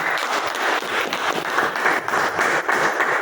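An audience at a team meeting gives loud, sustained applause, dense overlapping hand claps filling the room evenly throughout with no talk over it.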